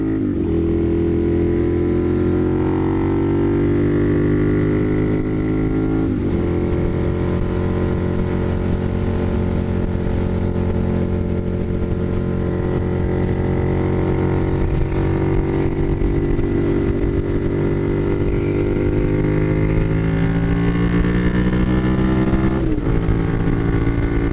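A sportbike engine drones steadily and loudly as it accelerates onto the interstate, its pitch climbing gradually through the gears, with a brief shift dip midway and another near the end, heard close from the rider's position.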